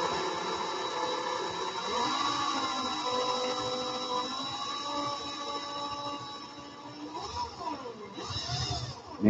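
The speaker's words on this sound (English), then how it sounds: "So drill in reverse, start slow, pull tension away from each other" A power drill runs in reverse, twisting strands of wire for a vape coil build, with a steady whirring motor whose pitch rises and falls as the speed changes over a long continuous stretch.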